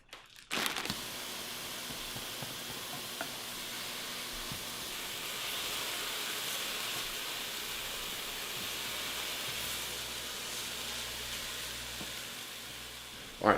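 Turkey sizzles and fries steadily in a hot pan, a constant hiss with faint stirring and crackle, close and alone with no talking.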